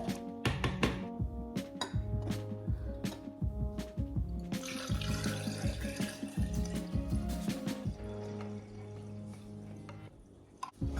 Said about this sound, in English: But now I just need to stir this in.